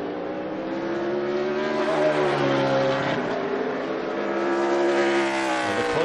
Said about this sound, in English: this 14 car is so fast on the track that I believe he's going to pull ahead